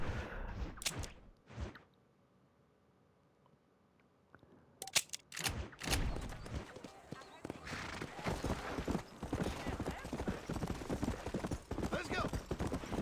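Horse hooves clip-clop in the video game Red Dead Redemption, at first a few isolated steps and then a steady run of close trotting beats after a short near-silent pause, with speech over the hoofbeats.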